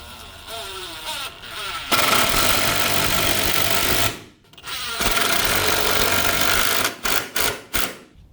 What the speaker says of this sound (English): we're going to grab our 4 wood screws and our size 3 Phillips and screw the leg into the tabletop